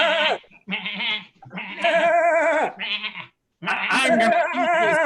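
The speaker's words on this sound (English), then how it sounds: "It looks like we've been Zoom bombed by juggling goats." Several goats bleat in quick succession, loud and close, with wavering calls separated by brief pauses; the setting is a live comedy improv show.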